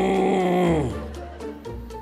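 A man imitates a husband's snoring with a drawn-out groaning snort that slides downward and breaks into rough, rattling breaths, loud and close.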